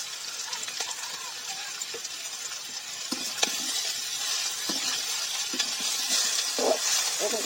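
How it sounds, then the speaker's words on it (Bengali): Vegetables frying and being stirred in a pan with salt and turmeric powder for a home breakfast bhaji, a steady bright sizzle with occasional scraping stirs and soft clinks, close and continuous, no talking. "এরকম করে ভাজি করবো।"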